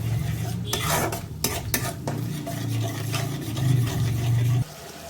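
Cauliflower roast with yogurt being stirred in a pan, loud close scraping and shuffling strokes over a constant low sizzle, no voices.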